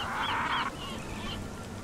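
Jungle birds in Conan Exiles give loud, nasal honking calls in a quick cluster, then a few fainter honks follow over a soft background hum.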